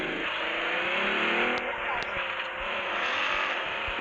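A vehicle engine revving steadily and loudly in the PUBG Mobile video game, a continuous driving roar with brief sharp clicks on top.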